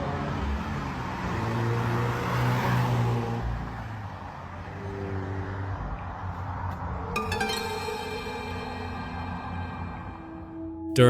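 Cars at a nighttime car meet in a Japanese neighborhood, a sustained engine drone and revving that swells and fades as vehicles pass, with a sharper burst at the end.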